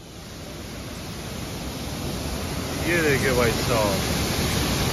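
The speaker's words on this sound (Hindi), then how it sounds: "ये हमारा गंगोत्री विहार वाटरफॉल, क्या आवाज आ रही है" The Gangotri Vihar waterfall in Dehradun roars as a dense, steady rush of falling water, loud and close, with a voice speaking briefly over it.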